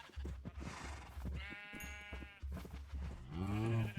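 Sheep in a farming video game bleat, one wavering call in the middle and another near the end, close and moderately loud over soft background noise, with no one talking.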